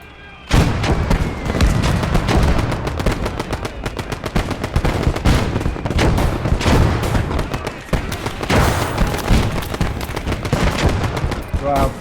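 A Vickers machine gun fires in long, rapid, continuous bursts in a war video game, loud and near, with dense gunfire and booms layered throughout.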